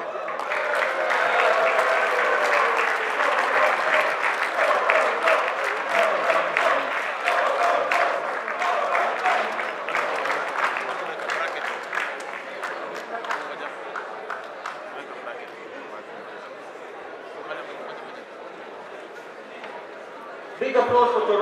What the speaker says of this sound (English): Guys, come on, give them a big applause.